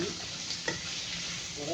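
Pancit canton noodles with turkey sizzle and fry steadily in a pan while being stirred, a continuous close hiss with a few soft scraping strokes.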